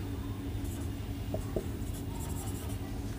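Chalk or marker scratches on a board during a class 10 coordinate geometry maths lesson, short faint strokes in small bursts over a quiet room hum.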